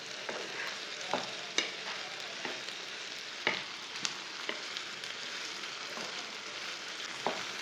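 Sliced okra and onion frying and being stirred in a pan, a steady close sizzle broken by sharp scraping stirs every second or so.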